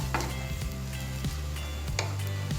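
Glass noodles stir-fried with cabbage in a pan with little oil, sizzling steadily up close while a utensil scrapes and stirs in repeated strokes, and no talk.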